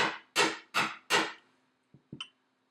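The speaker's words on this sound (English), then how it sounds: "I'm going to flip it over and just hammer it a couple times to reflatten it" Hammer blows flatten a small stamped metal nameplate for a name bracelet: four loud, evenly spaced strikes, then two or three lighter taps, with no talking.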